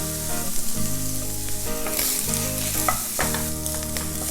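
All-natural sausage frying in a pan, a steady loud sizzle with stirring scrapes, continuous throughout with a few sharper crackles and a persistent low hum underneath.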